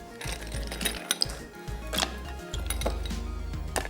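Ice cubes clink and clatter sharply into a blender jar in irregular bursts, with a low hum in between.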